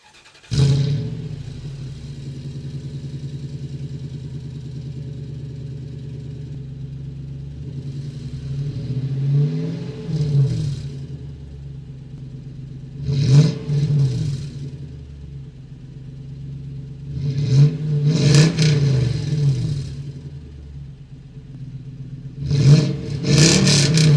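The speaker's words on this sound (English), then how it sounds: "I truly think this is a great dailyable exhaust setup here." A first-generation Toyota Tundra's exhaust idles with a deep, steady rumble, broken by several sharp revs that surge and fall back, close and loud, with no talking.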